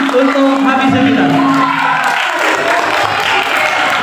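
Applause and cheering from an audience at a Hafidz Cilik roadshow, a loud steady crowd roar with whoops and children's shouts, a voice over it at first.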